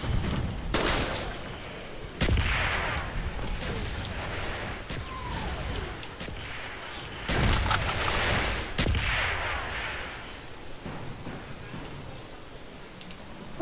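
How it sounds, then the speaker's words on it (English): Enemy mortar fire and gunfire in the Call of Duty Black Ops video game: scattered sharp shots and several heavy impacts crack through a continuous battlefield rumble, with a few louder bursts standing out. "Enemy mortars incoming."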